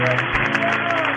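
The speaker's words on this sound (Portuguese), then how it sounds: "Um aplauso a Cristo Jesus." Church congregation applauding in a steady, dense wash of clapping that holds throughout this brief moment, with a faint voice beneath it.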